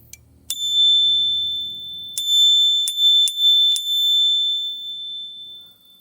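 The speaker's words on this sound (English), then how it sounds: "now on my handlebars. Got my sweet little bell." A small bicycle bell mounted on handlebars chimes once, then rings four more bright, clear strikes in quick succession, each leaving a ringing tone that decays, with faint rustling beforehand.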